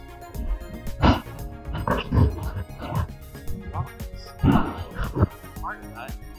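Greyhounds bark and whimper at home, including American, Irish and Hungarian dogs, giving intermittent yips and whines that are close and loud, mixed in with a person talking.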